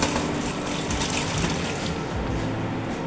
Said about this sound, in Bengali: এই আমটা আমি ঢেলে দিচ্ছি।